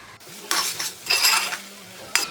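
Metal utensils scrape and clink against a heavy bronze uruli pot while stirring fried coconut into pineapple pachadi, in a few short bursts, close up, with quiet gaps between strokes and no voices.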